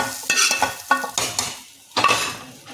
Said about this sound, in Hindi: अब डाल देंगे इसमें, बघाड़ देंगे दाल को। ये देखिए बघाड़ गई दाल।